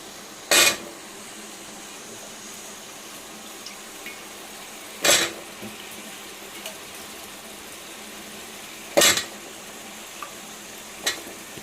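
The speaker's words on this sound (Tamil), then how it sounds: "உப்பு போட்டு நல்லா வதக்கிக்கலாம். கூடவே கட் பண்ணி வச்சுருக்கிற முருங்கைக்காய்," Drumstick and carrot pieces with salt are sautéed in a pan for a mango sambar, with a soft continuous sizzle broken by three sharp, evenly spaced scrapes of a spoon stirring.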